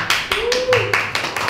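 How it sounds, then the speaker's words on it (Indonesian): A small group claps on request during a podcast recording, a short run of separate claps, about seven sharp hits, while a voice is briefly heard beneath them. "Teman-teman boleh minta tepuk tangannya dulu."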